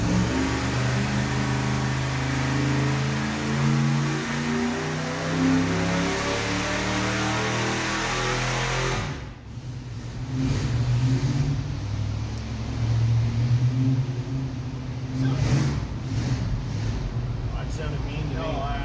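A stock Ford 460 V8 on a dyno roars steadily at high revs, loud and close, then drops off abruptly and settles into a rough, lumpy idle with occasional blips.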